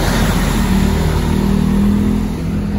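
Jetbus 2 coach bus engine accelerating past a busy intersection in East Bekasi: a loud, close, steady low diesel drone with a broad rumble, holding strong for the few seconds shown.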